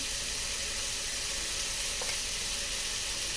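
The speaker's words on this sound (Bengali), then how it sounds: "চিংড়ি মাছ ভেজে রেখে দিচ্ছি" Prawns fry steadily in a hot pan, giving a continuous, even sizzle at moderate loudness with no voices and one faint clink partway through.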